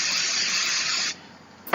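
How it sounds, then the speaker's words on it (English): Repositionable adhesive spray from an aerosol can sprayed onto a stencil over a mixed-media art tag: one loud, close hiss for about a second, then a quieter fading tail and a brief click at the end. "I think I'm going to spray it with a little bit of repositionable spray."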